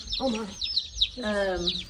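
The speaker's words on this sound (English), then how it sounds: "I couldn't resist. 18 baby chicks." Eighteen baby chicks, smoky pearls and California straight tans, give repeated high thin peeps nearby while people talk over them.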